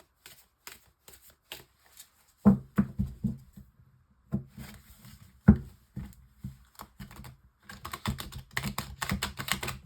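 Tarot cards being shuffled by hand during a reading, soft papery riffles and taps in irregular bursts, close and fairly quiet, with brief pauses between handfuls.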